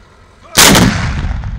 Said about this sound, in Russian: Залп гаубичная батарея дает серьезный.